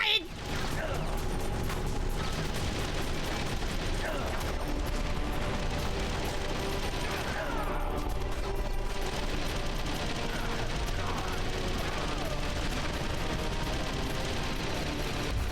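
Rapid, sustained machine-gun fire rattles continuously from Metal Gear Solid: The Twin Snakes, loud and dense with scattered clanks and mechanical noise layered over the bursts.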